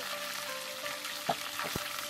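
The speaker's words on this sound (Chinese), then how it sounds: "煎，主要是为了去腥啊" Fish head pan-frying in hot oil, a soft steady sizzle with a couple of brief clinks or scrapes near the end, fairly quiet.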